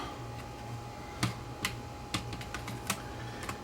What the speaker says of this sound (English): Okay, keyboard lifts out.